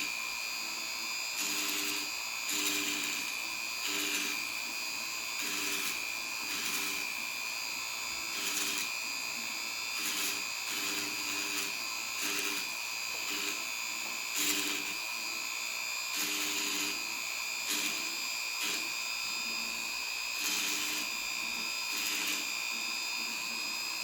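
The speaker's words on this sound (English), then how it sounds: "I can struggle through it with the checkering machine" Powered checkering machine cutting checkering into a gunstock, a faint high-pitched whirring buzz that starts and stops in short repeated bursts over a quiet workshop background.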